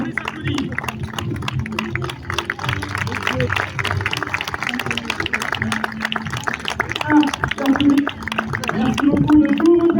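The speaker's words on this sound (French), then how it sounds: "Merci beaucoup de tous vos applaudissements." Audience clapping after a horse show, scattered applause from a crowd mixed with loud nearby talking and chatter.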